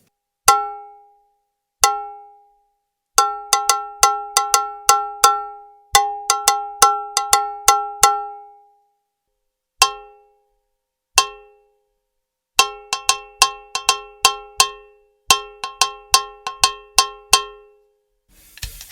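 A Tommy Lee cowbell struck repeatedly with drumsticks in bursts of rhythmic patterns, sharp bright clanks with short pauses between phrases, loud and close.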